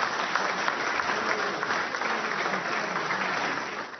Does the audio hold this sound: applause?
yes